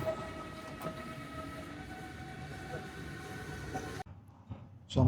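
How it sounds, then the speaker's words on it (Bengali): A D3 line commuter train pulling out of a station near Moscow, a sustained rumbling roar with faint rail clatter that cuts off abruptly, leaving a quieter platform ambience. "কি টাইমিং বাড়া, ঢুকলাম আর ট্রেনটা চলে গেল।"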